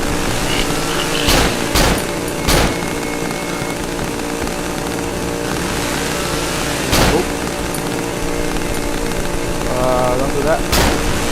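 Gunshots in the horror game Cry of Fear, fired at a tall chainsaw-wielding psycho; a handful of sharp, loud cracks at irregular intervals over a constant buzzing engine-like drone.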